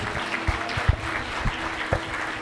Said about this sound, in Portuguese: Se é para Jesus, aplaude gostoso